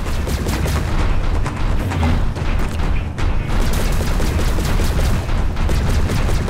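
Dense video game gunfire as enemies are shot, rapid overlapping bursts and booms forming a loud, continuous barrage with no pauses.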